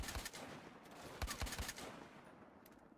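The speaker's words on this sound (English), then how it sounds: "no, this gun's loud as balls." Gunfire in the video game Battlefield Hardline, a quick burst of several loud shots close together early on, fading into a noisy, reverberant tail.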